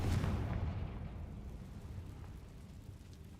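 A Confringo fire-blast spell in a Harry Potter wizard video game, a single deep booming burst that decays into a rumbling tail lasting a few seconds, fairly loud and alone.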